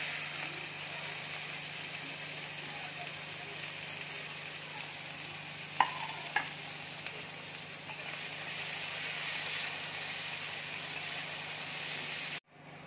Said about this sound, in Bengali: এবার তেলটা দেখো গরম হয়ে গেছে, এবার আমি ক্যাপসিকাম দিয়ে দিচ্ছি